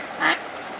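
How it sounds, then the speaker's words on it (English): One brief, bright duck quack sounds nearby at the Chateau Montelena winery grounds, standing alone over a steady background hiss. "We have ducks."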